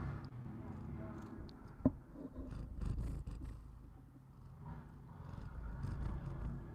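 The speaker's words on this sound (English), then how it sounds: "Can you hear the purr?" A domestic cat purrs softly and close by, a low, faint rumble broken by a few small clicks and handling noises.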